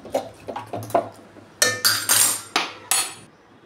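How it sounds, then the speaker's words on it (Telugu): A spoon works egg biryani masala and yogurt around a metal pot, with about a dozen uneven scrapes and sharp knocks, some quick and light, others heavier and ringing, close by. "సో మొత్తాన్ని నీట్గా కలుపుతున్నాను"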